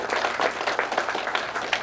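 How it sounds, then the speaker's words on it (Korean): An audience at a memorial ceremony applauds steadily, a dense wash of many hands clapping that continues without pause. "한 번 더 박수로 김중식 목사님"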